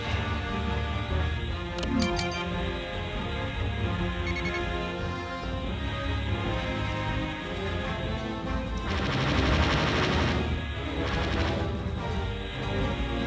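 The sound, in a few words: gunfire during a strafing run in a video game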